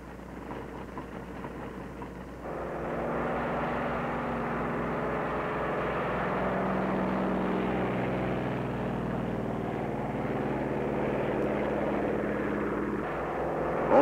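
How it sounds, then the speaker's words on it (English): Control planes taking off from an aircraft carrier at Bikini Lagoon, a steady propeller engine drone that swells after a few seconds and holds, fairly distant and even with no talk over it. "Also taking off from the carrier are control planes"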